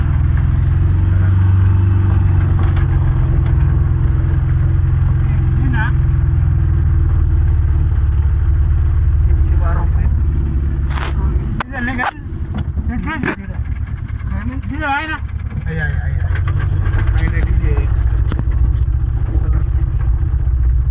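A vehicle idles at a fuel stop at the Borod ghat with a steady low engine rumble throughout, while voices and movement come through nearby in the middle.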